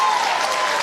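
A rugby league crowd at Leichhardt Oval applauds a New South Wales try in the Australian Police Tri Series, a dense, steady roar of clapping and cheering that stays loud throughout.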